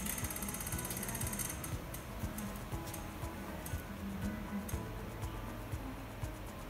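Roulette wheel on an interactive monitor spinning at a prize draw, a steady ratcheting tick running throughout, with a faint high-pitched whine at the start and a constant hum beneath.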